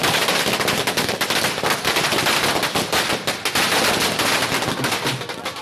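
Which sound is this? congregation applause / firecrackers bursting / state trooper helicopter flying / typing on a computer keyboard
firecrackers bursting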